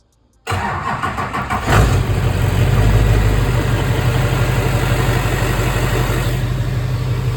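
A diesel Cadillac engine with no exhaust fitted, running straight out of the downpipe, cranks and fires abruptly, then settles into a loud, steady, rough idle heard up close.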